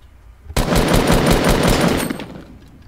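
Gunfire in the video game Fortnite: a single loud, rapid-fire automatic burst of about one and a half seconds that starts abruptly and fades out with a short tail.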